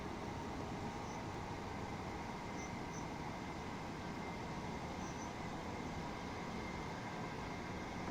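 A Class 377 electric train runs in the Train Sim World game, giving a faint, steady rumbling hum of rolling motion with no talk.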